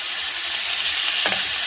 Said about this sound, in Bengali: আমি আজকে খোসা শুদ্ধ আলু ভাজছি